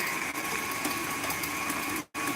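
An electric kitchen mixer beats batter in a steady, close, continuous whir with a constant tone, cutting off briefly near the end before starting again.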